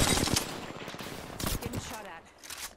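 Close, loud automatic gunfire in Apex Legends, rapid bursts of shots that thin out toward the end, with talk partly mixed in.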